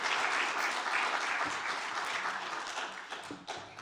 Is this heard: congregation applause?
yes